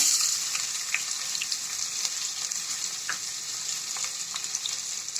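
A cup of chopped onions and a few green chilies fry in hot oil, a continuous bright sizzle with faint scattered crackles and light spoon scrapes, close and steady.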